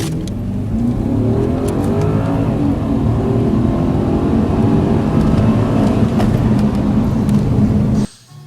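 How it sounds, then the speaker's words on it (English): Inside a B6 Audi S4 4.2 V8 with stock exhaust and all windows up, a steady, fairly loud engine drone builds and climbs through acceleration before cutting off sharply near the end. "this is in car stock exhaust with all windows up"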